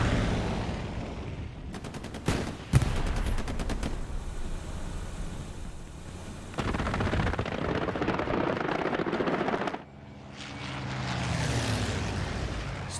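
Aircraft strafing runs in the video game Hell Let Loose bring bursts of rapid machine-gun fire, some near and loud and others more distant, mixed with engine roar and a rising and falling aircraft drone.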